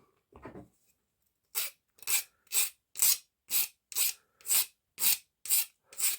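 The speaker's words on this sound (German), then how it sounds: "Das heißt, da müssen wir noch ein bisschen feilen." A file rasps against a toy blaster part in about ten even, rhythmic strokes after a brief handling noise, close and crisp with no talking.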